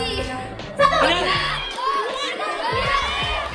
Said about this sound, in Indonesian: Gamenya tuh seru banget karena pada teriak dan nyolot-nyolot gitu.